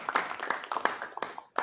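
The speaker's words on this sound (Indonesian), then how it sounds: "tepuk tangan untuk Mas Teddy" Short burst of classroom applause for a student's answer, a handful of claps with uneven rhythm, fairly close and moderate in volume, ending in a brief pause and a final clap.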